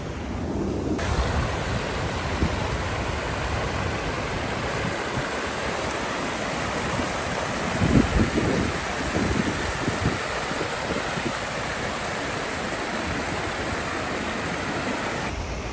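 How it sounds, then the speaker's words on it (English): The fountains at the World War II Memorial in Washington DC give off a steady, dense rush of splashing water, loud and continuous, with a slight swell of sound partway through. "It's actually like a very peaceful place, especially with the fountains."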